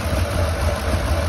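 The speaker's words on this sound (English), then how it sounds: "You notice the engine did not run any different at all when I pulled that out of there." A 2008 Ford 5.4 3V V8 idles with one fuel injector unplugged, giving a steady, even, close-up engine drone with no change in rhythm and no voices.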